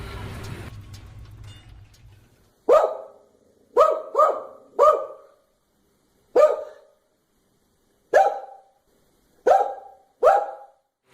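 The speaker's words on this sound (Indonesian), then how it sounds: "Ya betul, bunyi itu adalah bunyi anjing." A dog barks seven times at irregular intervals, each bark clear and fairly close, after a short stretch of low rumbling noise at the start.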